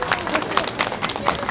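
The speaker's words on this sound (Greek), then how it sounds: "χειροκρότημα στην Κατερίνα" Applause for a participant named Katerina at a Christmas celebration in Marousi: a crowd clapping steadily in rapid, uneven bursts, fairly close, with voices mixed in.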